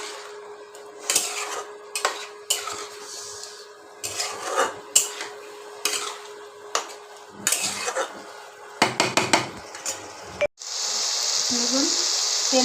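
A spatula scrapes and clinks against a pan as spiced masala is sautéed for a Bengali fig and shrimp dish, with irregular knocks followed by a steady, loud sizzle near the end.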